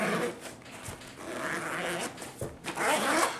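A jacket zipper, freshly treated with rubber conditioner and zipper lubricant, pulled repeatedly in close, smooth rasping runs with short pauses between strokes, heard alone with no talking.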